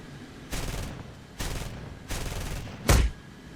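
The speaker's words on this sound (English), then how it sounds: "I'm gonna fire a couple shots at him." Aircraft cannons fire in War Thunder during a G91 Pre Serie jet dogfight, three short rattling bursts followed by a sharper louder volley, set against steady engine noise.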